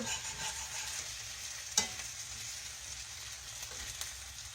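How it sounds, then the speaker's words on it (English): Tenderloin chops frying in a pan, turned over with potatoes and onions cooking alongside: a steady close sizzle with one sharp clatter of the utensil near the middle and a few softer scrapes. "I am going to try to turn the meat over."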